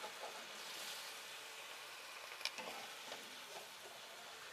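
Chicken pan juices sizzle steadily in a hot pan as a utensil scrapes up browned bits, a close, continuous frying hiss with faint scraping strokes and one brief sharp clink.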